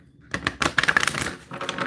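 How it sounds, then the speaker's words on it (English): A deck of playing cards is shuffled close by, a rapid riffle of crisp flicking and clicking that builds and then trails off. "One more shuffle."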